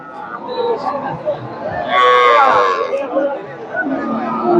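A cow moos loudly for about a second amid the steady chatter and hubbub of a busy crowd at the Dakumara cattle market in Bogura, Bangladesh.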